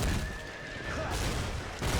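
A loud, close horse whinny rises and trails off in the video game Berserk and the Band of the Hawk, set against rumbling battle noise and a thud.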